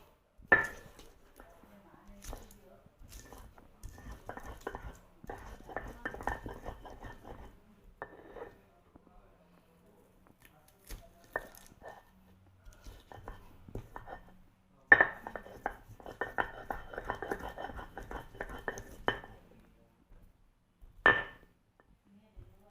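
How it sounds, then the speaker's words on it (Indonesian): Shallots and garlic ground into a paste in a kitchen, with clattering bursts of pestle or utensil against a bowl in several spells separated by pauses, close and moderately loud. "Langkah pertama yaitu haluskan bawang merah dan bawang putih."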